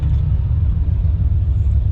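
LS-swapped Nissan Silvia on a test drive, a loud steady low engine rumble and road drone heard from inside the car, continuous with no speech.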